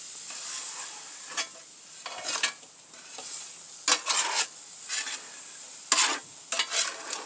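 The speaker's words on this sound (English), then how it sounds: "I use a scouring pad. It's a metal one." A metal scouring pad scrubs back and forth across a hot griddle with light pressure, giving repeated short rasping bursts separated by quieter pauses, close and moderately loud with no talking.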